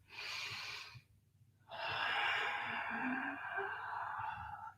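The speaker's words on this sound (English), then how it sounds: "Taking another one, breathe in" Deep breath drawn in during a vinyasa yoga flow, two long airy inhalations close to the mic, the second steady and sustained, with a short quiet gap between them.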